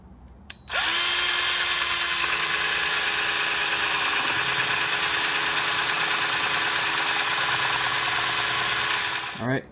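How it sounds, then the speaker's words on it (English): A power drill spins up sharply and bores steadily for about nine seconds through reclaimed wood with a 7/8 inch bit, a loud, even whine, then winds down. "Let's drill some holes."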